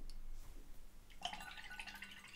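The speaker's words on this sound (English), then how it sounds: "I'm gonna put it in the water and do splatters" Watercolor paint splattered from a brush onto wet paper gives soft, faint patters and drips, a quiet scattering of light taps that thickens partway through.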